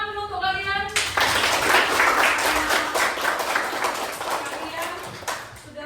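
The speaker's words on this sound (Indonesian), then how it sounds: "Berikan tepuk tangan dulu untuk kalian." A class bursts into a loud round of hand clapping that follows a short electronic chime, dense and brisk at first, then thinning out over several seconds with a teacher's voice nearby.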